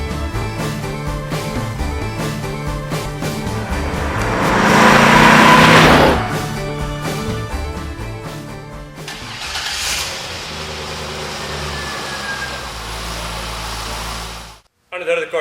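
2004 Chevrolet Corvette C5 convertible with a 5.7-liter LS1 V8 running, a loud swelling engine roar that settles into a steady idle, heard near and mixed with background music.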